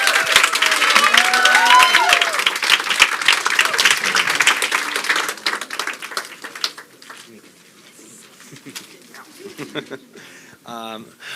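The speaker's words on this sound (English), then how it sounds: "can we get another round of applause for Joshua Powell?" Audience at a Pechakucha Night in Bermuda claps and cheers loudly for a presenter, a dense burst that fades after about six seconds into quieter scattered sounds and voices.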